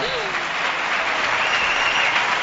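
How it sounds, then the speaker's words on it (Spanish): Live audience at a radio show broadcast from Cádiz bursts into sustained, dense applause that fills the room, loud and close, with faint voices mixed in. "Pues yo os voy a pedir un aplauso muy grande, de verdad, para una persona."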